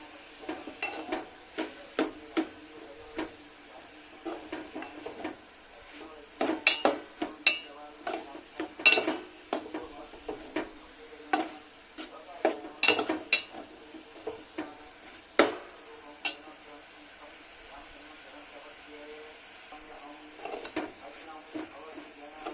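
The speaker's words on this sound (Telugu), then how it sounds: "ఇలా అప్పుడప్పుడు కలుపుతూ ఉండాలండి" Spoon scraping and knocking irregularly against a pot while bottle gourd curry with a pinch of turmeric is stirred, close and fairly quiet, in sporadic clusters of clinks and scrapes with no talking.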